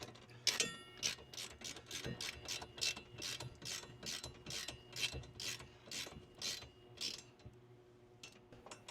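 A hand ratchet snugs bolts on a John Deere 7600 tractor, a rapid series of crisp clicking bursts in steady rhythm, close and quiet, with no talk.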